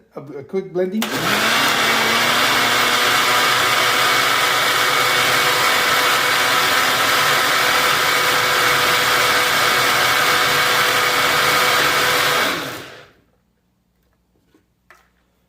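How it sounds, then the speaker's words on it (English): A kitchen blender runs at full, steady power for about eleven seconds, churning duckweed and water into a green slurry. It starts abruptly and stops with a short wind-down, followed by faint handling noises. "So we'll give it a quick blending."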